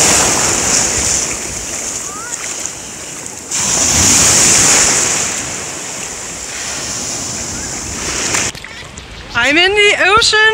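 Atlantic Ocean surf at Popham Beach, Maine, a loud continuous wash of breaking waves with heavy wind buffeting the microphone, and a voice speaking over the water near the end.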